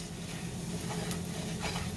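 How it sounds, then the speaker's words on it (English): Flour stirred into hot fat in a pan while making gravy for pan-fried pork steak gives a steady, close sizzle and hiss with faint scraping of the stir throughout, and no talk. "You want to keep stirring this flour"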